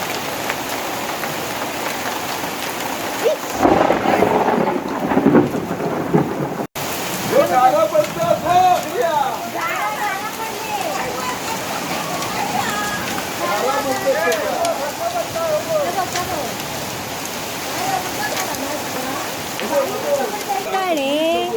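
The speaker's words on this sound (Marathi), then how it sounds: "हे बघा गारा पडतायत." Hail and rain pour down in a sustained, loud crackling hiss over mango orchards in Konkan, with dense scattered impacts throughout and a voice talking intermittently over the storm.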